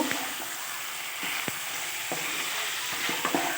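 Spices are stirred into chicken curry frying in a pan, a steady loud sizzle broken by several sharp scrapes and knocks of the spoon against the pan.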